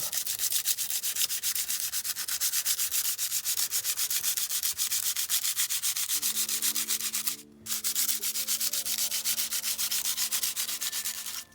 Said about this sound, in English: you're just sanding a little bit of the ink off of the paper there